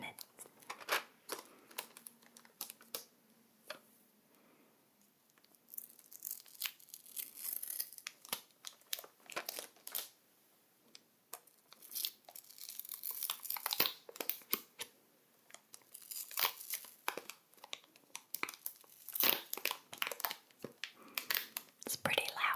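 A package of pencils is torn open, with bursts of crinkling, tearing plastic and paper in irregular clusters, close and fairly quiet, with brief soft talk between the rustling.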